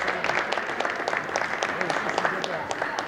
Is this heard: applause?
yes